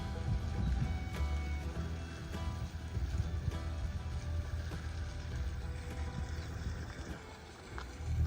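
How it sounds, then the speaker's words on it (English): A low canal boat engine drone chugs steadily in the background under outdoor noise and wind along the River Lea, with occasional knocks and clicks. "There's something extremely calming about the sound of canal boats."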